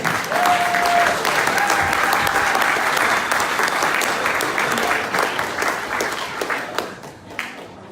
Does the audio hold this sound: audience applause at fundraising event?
yes